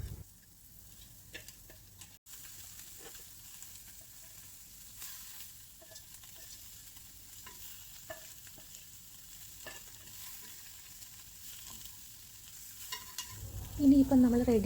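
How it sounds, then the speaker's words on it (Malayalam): Spiced onion mixture with chopped egg being stirred and sautéed in a pan, a soft continuous sizzle with scraping stir strokes close by, ending in a brief louder clatter. "അപ്പോൾ ഇതൊന്ന് വഴന്നു വന്നതിന് ശേഷം നമുക്ക് മുട്ട കട്ട് ചെയ്ത് വെച്ചിരിക്കുന്നത് ഇതിനകത്തൊന്ന് മിക്സാക്കി എടുക്കാം."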